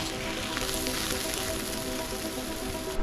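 Catfish cooking over a campfire as it is flipped, giving a loud, dense, continuous sizzle and crackle close by, with no talking.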